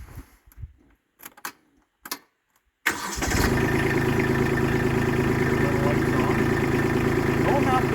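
A Kubota B2601 compact tractor's engine cranks briefly after some quiet handling noises, then catches and settles into a steady, loud diesel idle that runs on without a break.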